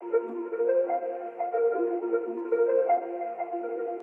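Layered keys texture run heavily through a Microcosm pedal, a steady sustained wash of tones with soft swelling notes blooming and fading at a moderate, even level, no voices.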